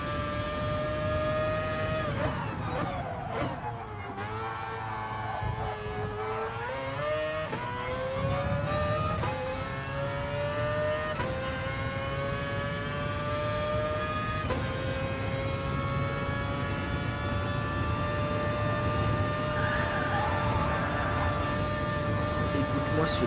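A Mazda RX Vision GT3 Concept race car in a video game revs hard, its loud engine tone climbing steadily through the gears with brief dips at each shift, sustained throughout and close.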